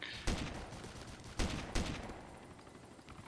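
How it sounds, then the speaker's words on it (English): Gunfire in the video game DayZ, heard as three sharp reports over a steady background hiss, somewhat distant. "There's some guys along the main road shooting."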